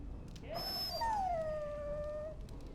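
A dog whimpers and whines in Dragon Age: Origins, one drawn-out, wavering high whine that slides downward and fades, close and alone over a low background hum.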